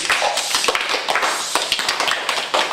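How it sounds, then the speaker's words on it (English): A group of schoolchildren claps together on a count, producing a dense run of sharp, fairly loud hand claps in rough unison that repeat steadily without talking. "Let's clap it up like the young people"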